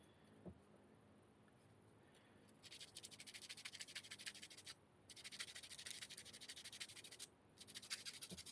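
Hand sanding of a damaged fan with 60 grit sandpaper gives a soft, steady rasping scrub. It is faint at first, then comes in two longer, louder stretches broken by short pauses, with no talking.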